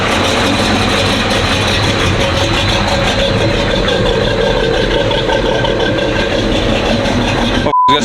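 A Duramax diesel pickup idles with a deep, steady rumble and a slight choppy pulse, loud and close, ending in a brief cut.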